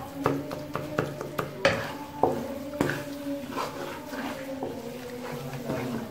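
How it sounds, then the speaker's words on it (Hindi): Makhandi halwa is stirred and roasted in a pot with a spoon, making repeated clinks and scrapes against the metal in an irregular rhythm, close and moderately loud. "इसे अच्छी तरह भूनते रहना है।"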